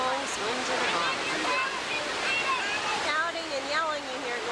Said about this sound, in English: Shouting and yelling you hear going on is coming from back here.